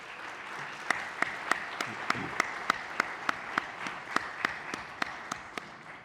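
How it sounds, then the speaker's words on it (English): Audience applause at a Berks County anniversary kickoff event at the Miller Center, a steady wash of many hands clapping with sharp individual claps standing out above it, sustained evenly throughout with no talking. "Let's give them a round of applause."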